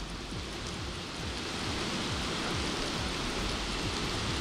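Heavy monsoon rain pours down steadily in Chikkamagaluru, a dense, constant broadband hiss of rainfall with no pauses, close and loud.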